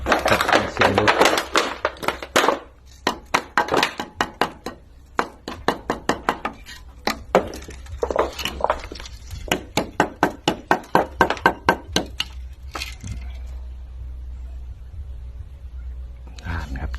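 Large chunks of wood charcoal knocked together, a run of sharp hollow clinks in quick irregular clusters, close and clear, then fading to quiet at the end.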